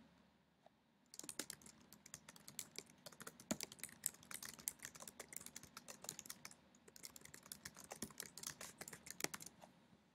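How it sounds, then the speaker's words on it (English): Steady typing on a computer keyboard as a brief description is entered, with quick irregular key clicks close to the mic for about nine seconds after a short quiet start; nobody speaks. "And you can type a brief description."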